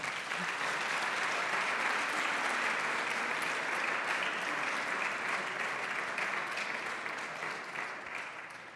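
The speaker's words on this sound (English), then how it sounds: "Congratulations and big applause to Jackie as well." Audience applause at a youth prize ceremony in Aachen, a steady dense clapping from a large crowd that holds at a roughly even level and tapers slightly toward the end.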